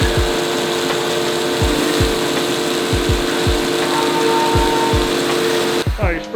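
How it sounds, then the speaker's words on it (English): Machine running steadily and spraying coolant in a robotics shop, with a continuous mechanical hum and rhythmic low thumps about every half second, then a sudden change in sound at the end. "Oh, you're spraying coolant everywhere, dude."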